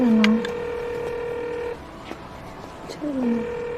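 A telephone is dialed in an indoor drama scene, giving a short series of steady electronic keypad tones with brief pauses between them, close and clear.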